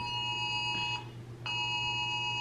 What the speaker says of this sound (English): just a random Amber Alert that didn't even go off on my phone